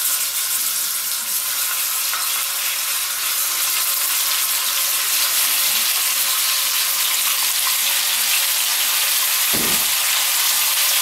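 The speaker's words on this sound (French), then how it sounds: "Et on va faire revenir notre viande à feu très vif" Beef for a bourguignon sears in a pan over very high heat, giving a loud, continuous close-up sizzle with a brief utensil knock near the end.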